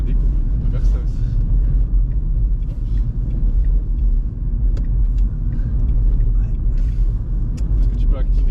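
A 2023 Renault Twingo accelerates gently in eco mode, its steady, loud road and cabin rumble holding throughout with no sharp surges.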